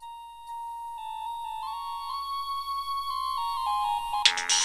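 A mobile phone rings for an incoming call with a rising electronic melody of bright tones that builds over a few seconds and turns into a brief busier burst at the end. Nobody speaks while it rings.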